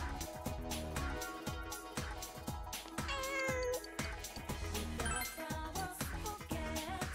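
A cat meowing in Persona 4 Golden, with a few short mews standing out over looping, rhythmic game music.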